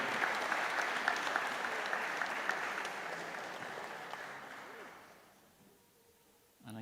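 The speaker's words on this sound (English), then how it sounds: "So give her a big round of applause for Amy." Warm audience applause at an Irish traditional music gathering in Castletown Geoghegan, strong steady clapping with a few sharper claps that fades out over several seconds, followed by a brief sound at the end.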